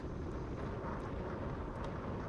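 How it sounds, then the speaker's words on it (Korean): Strong wind on the Jeju coast roars steadily against the microphone, a dense, broadband rushing with no break or other sound. "아, 바람 소리 참 끝내준다."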